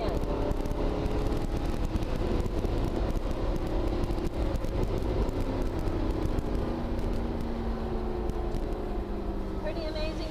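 Mercedes SLS AMG on the Atlanta Motorsports Park track, its engine droning steadily from inside the cabin as power is applied through a corner, with wind and road noise throughout.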